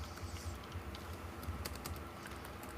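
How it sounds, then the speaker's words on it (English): Quiet, rapid clatter of keys on a computer keyboard, a steady run of light taps heard from close by and alone, with no talking. "As he bangs away on the keyboard."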